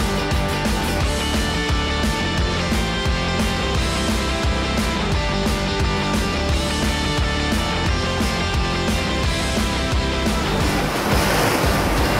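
Sea waves roll onto a beach in Montenegro as a continuous loud surf roar, heavily mixed with wind buffeting the microphone, with no speech.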